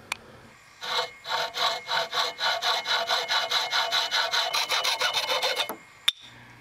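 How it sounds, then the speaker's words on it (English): Hand saw cutting the ends off a carpet transition strip: a close, steady run of about twenty even back-and-forth strokes, heard alone with brief quiet before and after. "I cut off a little bit on each end so the screw holes are symmetrical"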